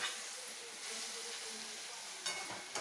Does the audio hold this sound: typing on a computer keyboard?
no